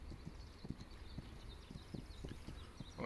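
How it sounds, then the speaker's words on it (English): Horses in the video game This Land Is My Land give a faint, steady clip-clop of hooves, soft repeated steps walking at an even pace under quiet ambience. "Oh, you guys do have a couple of horses."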